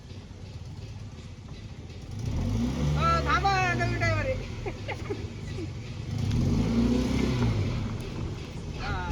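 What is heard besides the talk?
car engine revving as a new driver drives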